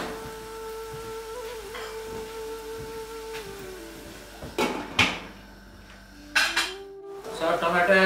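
A metal lid clanks onto a cooking pot of tomato and onion, a couple of sharp clattering knocks ringing out after a quiet stretch of simmering hum, with a soft voice in the background.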